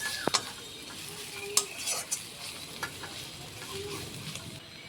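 Ground spices frying briefly in oil in a pan for a rohu fish curry with lentil dumplings and potatoes, a soft steady sizzle broken by a few sharp clinks and scrapes of a spoon against the metal.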